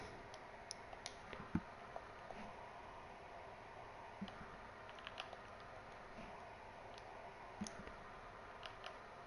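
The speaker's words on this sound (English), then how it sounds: "I'll just get his name up on Discord and type it out." Someone types out a name on a computer keyboard, producing sparse, irregular light clicks and taps, fairly faint and close, with no talk over them.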